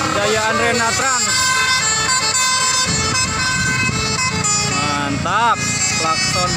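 Loud, melodic telolet horns from tour buses on a hill road, sounding in repeated pitch-sweeping phrases over engine rumble, with shouting and talk from the crowd mixed in.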